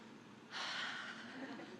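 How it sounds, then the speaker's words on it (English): A group breathes in deeply together at a college health sciences graduation gathering, a soft broad rush of inhaled air swelling suddenly and holding steady for over a second in a quiet room. "I want you guys to take a deep breath"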